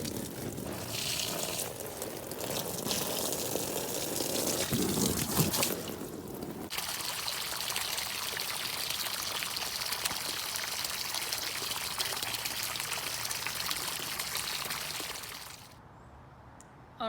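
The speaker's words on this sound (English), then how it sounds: "So next we need to fill the pool" Water from a hose pours steadily into an inflatable family swimming pool, a continuous splashing rush that shifts in tone partway through, close and constant for most of the time before dropping off near the end.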